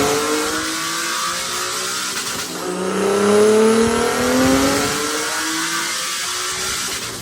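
A Nissan 370Z with a single top-mount turbo kit revs hard on a dyno pull at 10 psi boost, the engine note climbing steadily, loud and close, with a whooshing rise and sustained roar.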